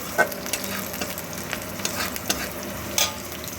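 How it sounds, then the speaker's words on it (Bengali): Momo filling with chopped chilli being stir-fried in a pan: a constant low sizzle with frequent sharp spatula scrapes and taps against the metal, no voices. "দিয়ে একটু ভালো করে নাড়াচাড়া করে একটু কষিয়ে নেব"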